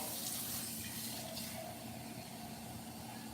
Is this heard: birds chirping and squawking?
no